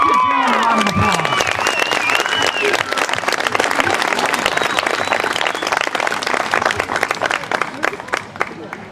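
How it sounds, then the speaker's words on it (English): A crowd at a children's contest applauds and cheers for the winner, dense clapping with whoops and children's shouts, loud and sustained, with a voice speaking briefly at the start. "Congratulations, Jalen, and let's give all of the contestants one more round of applause"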